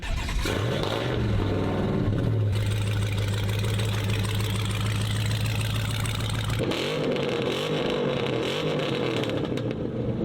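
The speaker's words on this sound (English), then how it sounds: "And then I fire it up and I listen to it, I'm like, oh my God!" An off-road Hellcat car's engine runs loud and steady throughout, with a deep rumble that revs up and settles back toward idle. No one speaks.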